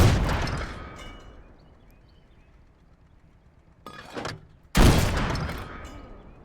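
Cannon fire from a tank video game: a loud blast that fades to a low rumble, then a short burst and another heavy boom whose roar lingers, all up close and loud.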